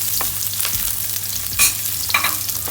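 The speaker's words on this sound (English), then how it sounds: "you have to add green chili, ginger, and garlic. Okay, you have to saute until brown color" Green chili, ginger and garlic sautéing in hot oil, a steady soft sizzle with a couple of sharper spatula scrapes against the pan, no voices.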